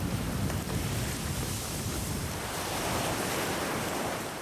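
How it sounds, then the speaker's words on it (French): Ocean waves crashing against lava flows at Kilauea, Hawaii, a dense, continuous roar of surf with heavy wind buffeting the microphone, loud and close with no voices. "Il y a la lave, mais aussi les vagues qui frappent, bouillantes."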